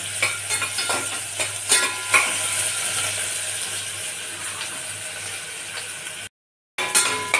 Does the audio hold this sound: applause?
no